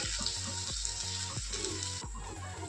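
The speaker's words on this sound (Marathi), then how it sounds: "आता झाकण न ठेवता शिजवून घेऊया थोड्या वेळ, म्हणजे चिकटपणा कमी होईल." Okra frying uncovered in a pan as a dry stir-fry, giving a steady close sizzle with soft, regularly spaced scraping knocks as it is stirred, no voices.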